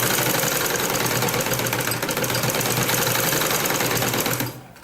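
Sewing machine stitching a fabric sleeve, a steady fast mechanical chatter running continuously up close, then stopping at the end.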